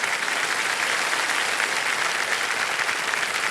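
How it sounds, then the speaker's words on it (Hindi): Steady, dense applause from a studio audience on a televised quiz show, a continuous wash of clapping at even loudness throughout with no talking over it. "मैं चाहता हूं कि जोरदार तालियां इनका अभिनंदन करें"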